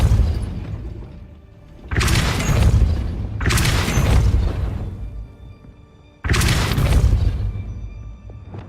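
In the Hogwarts Legacy video game, the Depulso spell drives a gate mechanism with three heavy, booming crashes, two close together and a third after a short pause, each fading with a rumbling tail.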